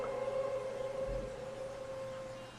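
An ambulance siren arrives with a sustained wailing tone that holds steady and slowly fades, somewhat distant and moderately quiet over a low background rumble.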